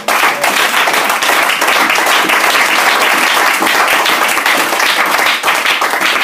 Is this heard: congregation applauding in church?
yes